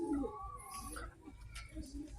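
Racing pigeons coo softly and close by in a short burst after a race, with a few scattered calls and faint background noise.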